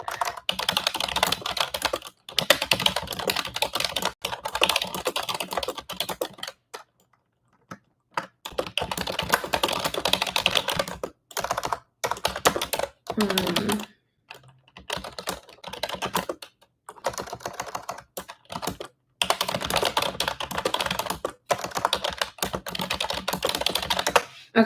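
Rapid, crisp keyboard typing close to the microphone, coming in bursts with short silent pauses between them.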